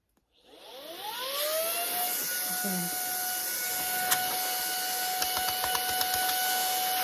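A Brigii M1 handheld vacuum cleaner spins up from silence to a steady high whine and keeps running at a constant pitch, with a few small clicks over the hum.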